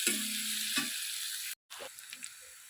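Greens and seasonings sautéing in a pan, a close, steady sizzle with brief scraping stirs, a sharp break midway, then softer sizzling with light clinks.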